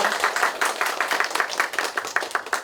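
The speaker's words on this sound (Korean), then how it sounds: "네, 여러분 큰 박수 부탁드리겠습니다." A modest audience at a book talk claps at the close of the event, a sparse, irregular patter of individual hands nearby.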